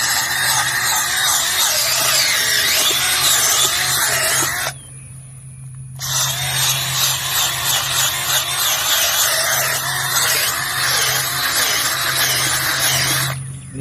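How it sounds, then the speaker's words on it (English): A power drill grinds and whines loudly boring pilot holes into heavy clay soil, running in two long bursts separated by a short pause, with a steady motor hum underneath. "I have to bounce the drill, otherwise it gets in a bind"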